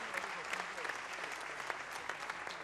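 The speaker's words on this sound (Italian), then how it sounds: "Dunque un applauso alle leonesse." An audience at a Venice sports gala claps steadily for a team of women paddlers who row the lagoon, a dense, even patter of many hands filling the hall.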